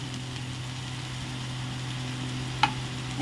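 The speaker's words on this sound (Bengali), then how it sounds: "1 মিনিটের জন্য আমরা ভেজে নিব, বেশি কিন্তু ভাজবো না এগুলোকে।" Onions and vegetables frying in a pan for a sweet corn snack, a steady close sizzle running throughout with one brief clink near the end.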